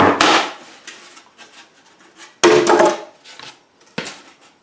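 Excess wood cracked off while building a rabbit house, two sharp loud snaps with a splintering crunch, each followed by quieter rubbing and scraping of the trimmed wood, close up and with no voices.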